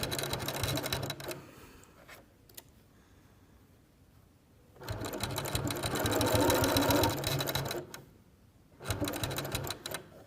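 A sewing machine stitches a zipper into a triangle pencil case in fast rattling bursts, running a few seconds, pausing, then running again, close and loud with no talk.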